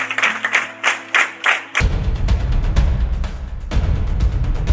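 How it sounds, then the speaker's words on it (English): Applause for villagers receiving gifts at a humanitarian water-well project, entering abruptly as a loud, broad, continuous wash of clapping after a few rhythmic sounds. "Clap for them."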